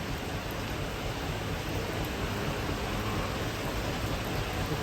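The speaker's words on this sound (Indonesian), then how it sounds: "Hujannya semakin terus guys" Heavy rain falls in a steady, even hiss with no breaks, moderately loud and continuous throughout, with no voices.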